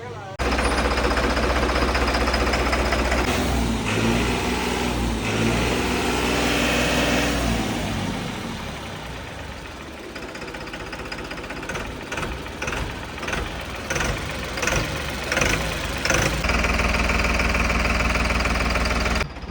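A New Holland 5620 diesel tractor engine, smoking from a faulty pump fitting, runs loudly and steadily up close, its rumble rising and then breaking into uneven knocking revs, with faint voices underneath.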